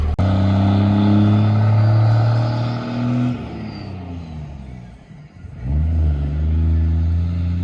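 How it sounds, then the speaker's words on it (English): A truck fitted with a very large exhaust and a turbo revs hard. A deep rumbling roar holds for about three seconds, drops to a ragged idle, then swells again into a second loud rev. The sound is close and dominant. "You rev it and then 3 seconds later the smoke comes out."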